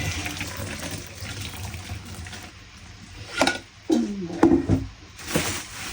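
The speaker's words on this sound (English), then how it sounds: "Get some nice hot water in there." Hot water runs from a tap into a basin, fairly quiet at first, then a few louder splashes and gushes near the end.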